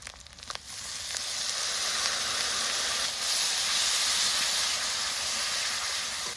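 A steady loud hiss and sizzle rises after water is poured into ground cumin, coriander and chili powder frying in oil in a pan. It begins with brief clatter, then holds close and constant with no talking.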